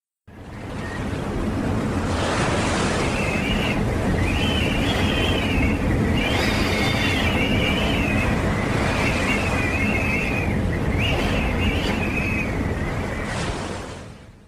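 Stormy sea with surging waves and howling wind, a loud continuous roar that swells in quickly and fades out at the end, with whistling gusts over the rushing water and no voices.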